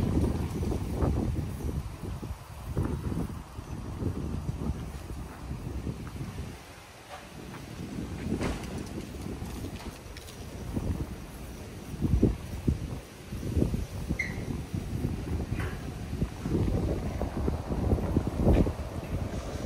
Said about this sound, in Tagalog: Ang hangin talaga.